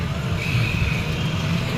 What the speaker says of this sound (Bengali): স্টেশনে নেমে টোটো করে যাচ্ছি